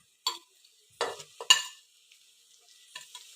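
A few short bursts of stirring and scraping crushed paste sizzling in a pressure-cooker pan over a medium gas flame, separated by quiet gaps, close and fairly soft.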